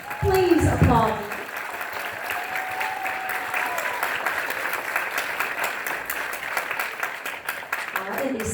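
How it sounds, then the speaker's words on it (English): Audience at a middle school spring honor band concert applauding honor band members, a steady wash of clapping that swells early then holds, with a brief voice at the start. "I-55 band members, please applaud them."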